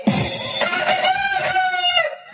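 A rooster crows once in a long, loud, close call lasting about two seconds, with no other sound around it.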